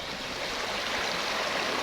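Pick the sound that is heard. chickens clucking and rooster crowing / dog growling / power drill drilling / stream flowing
stream flowing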